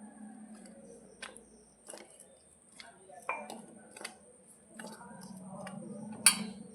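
Atta flour batter for uppam stirred in a bowl, giving sparse, faint clinks and ticks of a spoon against the bowl at irregular intervals over quiet background hum.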